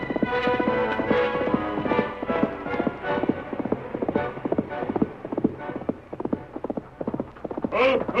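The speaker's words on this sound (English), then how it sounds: "Called his horse Silver" Horse hooves clip-clop in a 1938 Lone Ranger radio drama, a steady close rhythm of hoof beats continuing throughout, with a whinny-like sound near the end.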